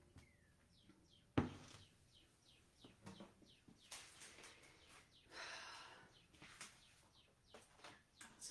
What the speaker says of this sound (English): They are singing so loud